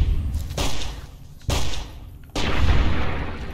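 Gun in the Fallout New Vegas video game firing three loud, booming shots spaced about a second apart, each with a sharp onset and a lingering rumbling tail.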